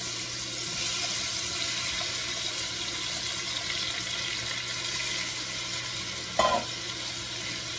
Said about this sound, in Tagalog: Lagyan na natin yung ating ampalaya.